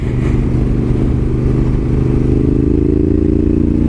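Honda Africa Twin motorcycle riding along, a steady loud engine drone with rumbling low tones and a slight rise in pitch toward the end, continuous with no talking.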